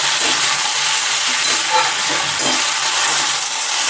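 Loud, close frying in hot oil, a dense continuous sizzle and crackle filling the pan with faint stirring underneath and no voices.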